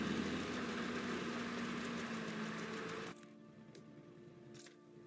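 A World War II military vehicle engine warms up at idle with a steady, droning hum, then drops to a quieter, thinner rumble partway through, with a couple of brief clicks.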